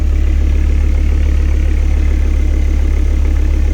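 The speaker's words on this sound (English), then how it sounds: "You can hear that the resonator has been deleted on the cold start." Volvo V70R engine idling on a cold start with the exhaust resonator deleted, a loud, steady, deep rumbling drone with an even pulsing throb throughout and no voices.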